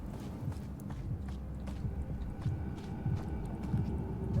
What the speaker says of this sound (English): It's like a heartbeat